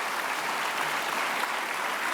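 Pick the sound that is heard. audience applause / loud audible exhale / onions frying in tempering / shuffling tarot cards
audience applause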